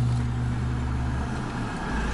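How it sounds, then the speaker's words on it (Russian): Steady low rumble of road traffic, cars passing on a nearby street, a continuous engine drone with no voices. "Машины ездят на улице, громче."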